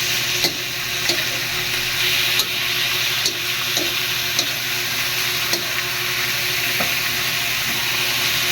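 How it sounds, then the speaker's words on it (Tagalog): Chicken gizzards fry in a pan with a loud steady sizzle that fills the whole stretch, and light taps of a utensil against the pan come through every second or so. "ilagay natin yung balon-balunan guys"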